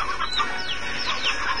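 Hens in the video game Slime Rancher cluck and chatter, with several bright overlapping calls in a steady, moderately loud stream.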